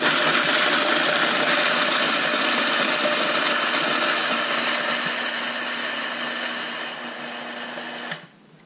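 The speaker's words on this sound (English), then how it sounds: "we're gonna blend our Oreos in blender" Kitchen blender crushing Oreo cookies, a loud, steady high-pitched motor whine running for about eight seconds before winding down and cutting off.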